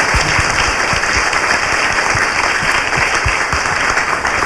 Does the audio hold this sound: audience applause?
yes